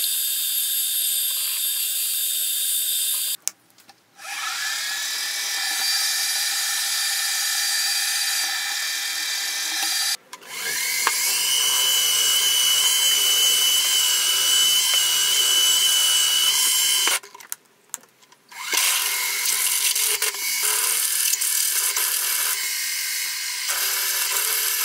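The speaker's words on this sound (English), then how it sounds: "The first thing that we'll do is drill two half-inch holes" A drill bores half-inch holes into metal for a lathe carriage stop, a steady high whine running in three long passes separated by brief pauses as the bit stops and restarts.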